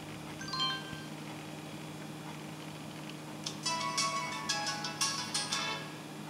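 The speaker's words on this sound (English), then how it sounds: "That's the sound driver loading" A Dell Latitude CP laptop running Windows for Workgroups 3.11 plays a faint startup sound as its sound driver loads, with a brief tone early on and then a rapid series of bright beeps and chimes.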